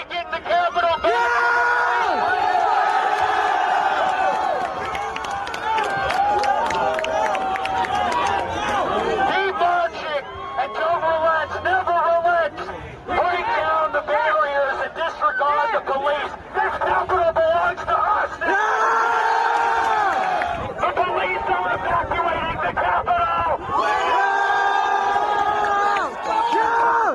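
A large crowd at the January 6 Capitol riot yells, whoops and chants almost continuously, a dense, loud roar of many voices with shouted bursts rising and falling throughout.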